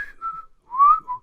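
A person whistles the melody of a song in two short bright phrases, close and clear, with no one talking.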